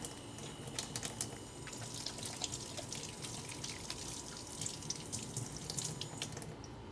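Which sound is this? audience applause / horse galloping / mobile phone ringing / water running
water running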